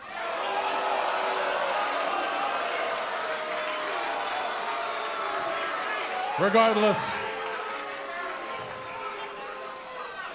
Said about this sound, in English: you guys are clapping and chanting